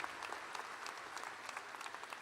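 Crowd applause for a senator at a university commencement ceremony; a soft, distant, continuous patter of many hands with scattered louder claps.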